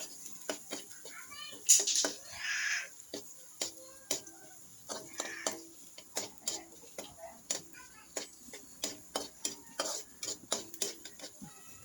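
Garlic and onion sauté in a pan for chicken curry, a quick regular series of spatula scrapes and taps against the pan over a light sizzle, close and fairly quiet.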